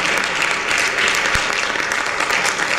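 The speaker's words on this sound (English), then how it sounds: "A round of applause for her." Church congregation applause at an MFM service in Milton Keynes, a dense, loud burst of clapping filling the whole short moment, with a single sharp knock partway through.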